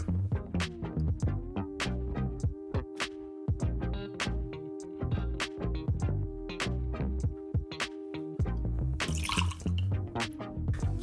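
Elijah Craig Small Batch bourbon is poured for a cocktail, making a steady liquid trickle broken by repeated small drips and clicks, with a tonal background hum throughout.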